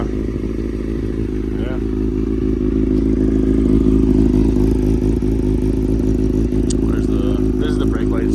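A 2017 Badass Industries 636 motorcycle engine warming up at idle, a steady close mid-pitched rumble with slight throttle variation, while someone speaks briefly over it.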